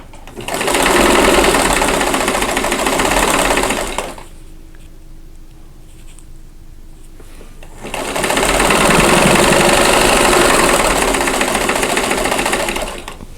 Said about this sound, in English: I'm sewing the first 2 pieces of each row and doing the pin method for the points.